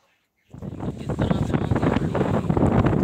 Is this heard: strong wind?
yes